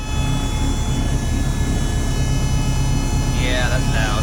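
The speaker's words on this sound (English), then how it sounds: "Man, that pump." A pump in the engine bay of a Honda Civic EG with a B20 VTEC swap whines with a steady, loud hum and constant tonal drone, heard close up with no talk.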